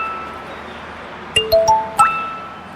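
A mobile phone gives a short bright chiming ringtone, four quick clear ding notes close by over a quiet room hiss.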